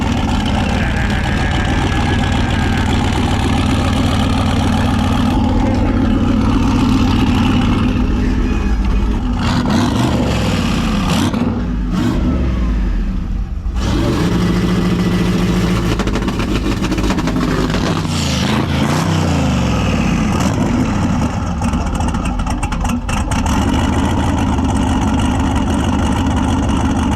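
A car engine runs at a steady idle, then revs up and down in several surging bursts, loud and close, with a few sharper climbs in pitch before settling back to a rough rumble.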